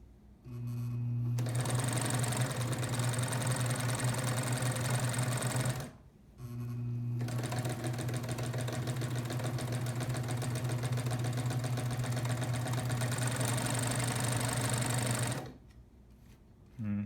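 A Singer 24-55 industrial double-needle chain-stitch sewing machine runs in two long continuous bursts with a steady mechanical hum and rapid whirring rhythm, separated by a brief pause.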